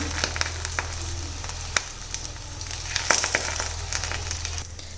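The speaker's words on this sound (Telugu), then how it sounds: "మెల్లగా వేసి కాల్చుకోండి." Aloo paratha sizzling and frying in oil on a pan over high flame, a steady close crackle with scattered sharp pops and a low continuous hiss.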